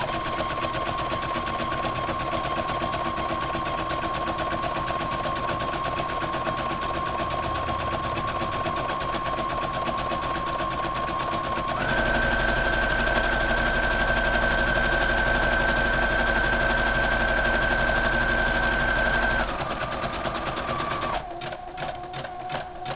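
A sewing machine stitching a zigzag seam finish along fabric, a loud close whirring hum with a rapid mechanical needle rhythm that speeds up midway, then slows and stops near the end.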